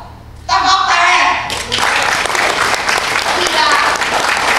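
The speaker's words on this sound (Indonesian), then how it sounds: "Tepuk tangan." An audience bursts into applause at an Indonesian political gathering, following a voice at the start, then a steady wash of clapping continues with a voice speaking over it.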